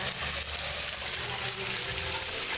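Shower water streams steadily at a private resort with a bright, continuous hiss, close and unbroken, with faint background sound underneath.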